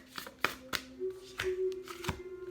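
A deck of cards being shuffled up close, with quick papery riffles and soft taps in a few short bursts, no voices.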